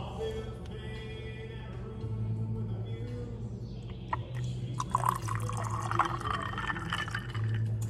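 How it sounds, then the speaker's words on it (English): Juice is poured into a vodka cocktail, a trickling, splashing liquid stream that starts faintly and grows fuller and bubblier over several seconds, heard close up. "And then you put a juice."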